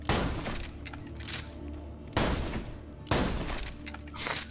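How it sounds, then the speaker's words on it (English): A shotgun fires in Borderlands 2, loud booming blasts with a fusillade-like burst at the start and two more heavy shots about a second apart, each trailing off into game noise. "It's got 5 bullets, but it only shoots 2 shots."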